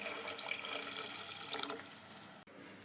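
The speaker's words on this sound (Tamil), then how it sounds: "நம்ம குழம்புக்கு தேவையான தண்ணி ஊற்றிக்கலாங்க." Water is poured into a pan of egg curry with ground coconut, making a soft, continuous splashing pour that runs quietly and steadily, then cuts off abruptly near the end.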